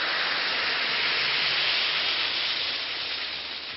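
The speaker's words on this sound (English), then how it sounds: "simply drop 1 or 2 tablets of Speedy Alka-Seltzer into a glass of water, like this. Listen to it fizz." Alka-Seltzer tablets fizz in a glass of water, a dense, steady hiss heard close up that carries on evenly without any talk and fades slightly toward the end.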